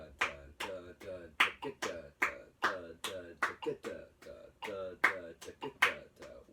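Hands clap a steady rhythmic pattern, with about twenty sharp, close claps in quick regular groups and a voice humming or counting along beneath them.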